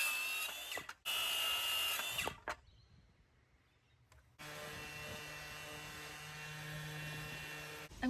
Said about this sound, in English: I'm going to use 45mm external galvanized screws to screw this down